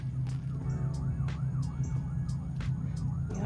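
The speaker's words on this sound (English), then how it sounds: "Y'all hear the ambulance?" An ambulance siren wails in steady rising and falling sweeps, heard at a distance over a constant low rumble of traffic in an outdoor fall garden setting, with no voices.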